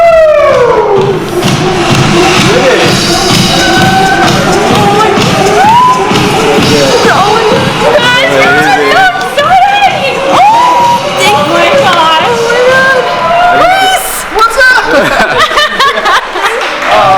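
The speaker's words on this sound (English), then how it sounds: "big round of applause for these ladies one more time" At a bodybuilding show, a loud crowd cheers, whoops and claps for the women competitors on stage, a constant roar with scattered shouts and laughter, close and busy throughout.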